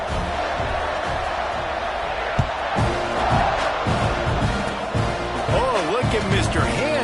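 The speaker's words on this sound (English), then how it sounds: "this crowd is buzzing after that last score" A football stadium crowd buzzes and cheers after a score late in the fourth quarter, a steady broad roar heard under a commentator's talk.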